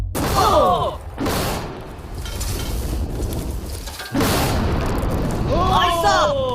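A TNT blast goes off against a safe holding an egg, landing as a heavy boom with a long rumbling roar, then a second burst, while people shout and talk excitedly over it.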